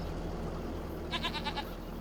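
Sheep bleating in the Farming Simulator 25 video game, a short run of three or four quick bleats over a steady low hum of ambient farm noise.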